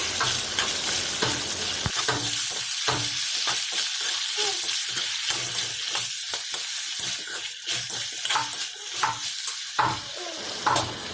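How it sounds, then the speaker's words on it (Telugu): Bottle gourd and potato pieces are stirred in a cooking pot, a hissing sizzle underneath and a series of scraping, clattering spoon strokes that grow busier and more rhythmic toward the end. "ఆనపకాయ ముక్కలు వేసుకొని బాగా కలుపుకోవాలి"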